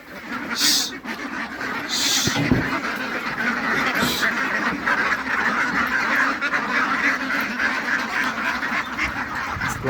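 A flock of pond-kept ducks quacking continuously, a dense chorus of overlapping calls at close range with a few sharper honks near the start.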